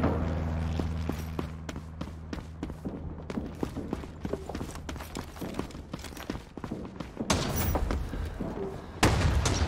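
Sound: gunfire in the video game Rising Storm 2: Vietnam

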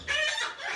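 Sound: hen clucking

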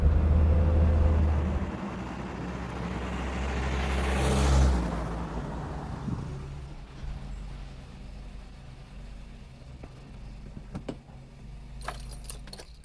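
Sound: Peugeot 504 car driving, downshifting and braking

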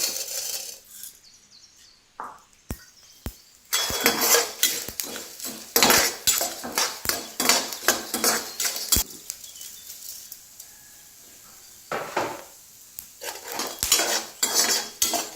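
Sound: dry roasting coriander seeds in a kadai, stirring

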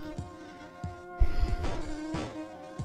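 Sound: buzzing bee boss in Stickman prison escape video game

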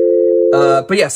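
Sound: sine wave tone from Roland MC-101 FM synthesis

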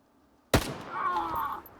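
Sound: gunshot in video game

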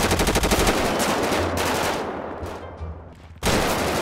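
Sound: gunfire in GTA 5 roleplay video game

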